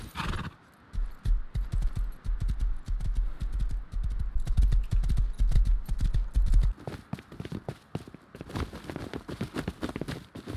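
Horse hooves clip-clop in the survival video game Rust, a steady clatter of footsteps running for several seconds, with a neigh and louder, denser hoofbeats near the end.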